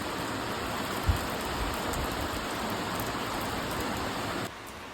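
Rain falls steadily over the forested hills of Fraser's Hill in Pahang, Malaysia, a dense even hiss with one soft thump early on; the wash continues at a slightly lower level toward the end.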